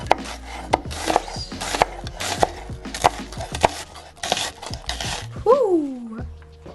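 Knife strikes a wooden cutting board in a steady rhythm while an onion is chopped for fajitas, each chop a sharp, close tap, ending in a brief rising vocal whoop.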